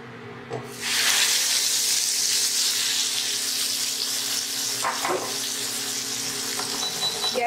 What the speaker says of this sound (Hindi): और अब मैं इसमें ऐड करूंगी जो टमाटर की प्यूरी मैंने बना के रखी है